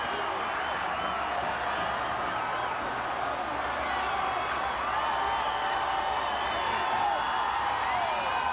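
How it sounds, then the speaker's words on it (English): Stadium crowd at a 1989 Division I-AA national championship college football game, Stephen F. Austin versus Georgia Southern: a continuous, dense roar of cheering and shouting that stays steady and loud throughout, with a commentator talking over it. "And the crowd, well, they're fired up, as well they should be."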